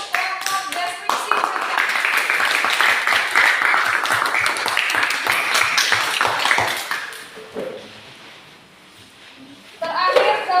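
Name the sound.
class applause for the description group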